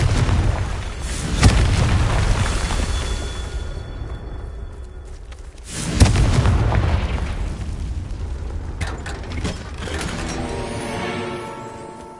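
Confringo blasting spell explosions in the video game Hogwarts Legacy, two loud booming blasts about four seconds apart, each trailing off into rumbling debris, followed by a quieter crackling burst.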